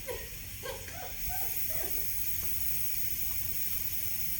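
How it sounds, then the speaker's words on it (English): Steam hisses steadily from a soup pot on quick release, a continuous breathy rush that fills the clip after a few brief voices at the start. "Gonna let the steam out first."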